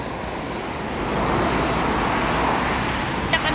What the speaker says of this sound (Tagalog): Ingay ng mga sasakyan.